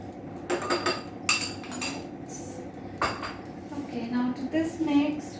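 Utensil scraping cake batter off metal whisks into a mixing bowl while making carrot cake, giving repeated clinks and scrapes of metal against the bowl, fairly close, with quiet kitchen noise between.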